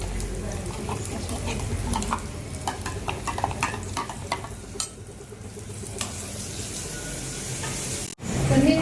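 Spinach puree simmers and sizzles in a pan as its own cooking water is stirred in, a soft steady bubbling hiss with scraping stirring strokes and a brief pour near the end.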